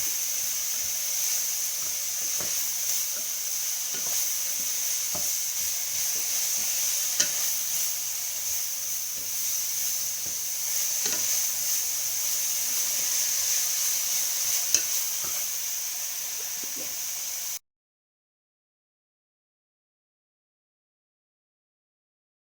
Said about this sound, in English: So we'll just fry these off for probably about 3-4 minutes, just so they soften up.